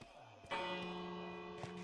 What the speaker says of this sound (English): if you want to get the village inside a house, it's best to ring a bell